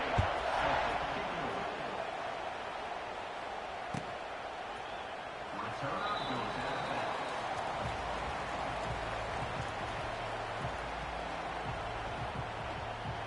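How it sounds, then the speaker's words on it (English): A steady, continuous stadium crowd roar from a football video game fills the whole stretch, moderately loud, with a few faint thumps and brief tones mixed in. "You think this crowd's going to get loud when their defense comes on the field?"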